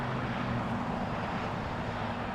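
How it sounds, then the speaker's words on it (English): Rolls-Royce RB jet engines of an airliner taxiing toward Terminal 7 at LAX, a continuous loud low roar with a steady hum, unbroken and fairly close, no voices over it. "You can hear the Rolls-Royce RB engines making their way up to Terminal 7"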